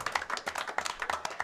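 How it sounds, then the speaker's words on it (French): Bar crowd applauding a pop-rock band after a song, a small group clapping in quick uneven bursts, fairly close but modest in volume. "On vous applaudit, non?"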